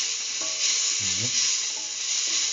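Salt caramel sizzles in a pan as it is stirred, a steady close hiss of frying with brief scraping strokes of the spoon breaking through.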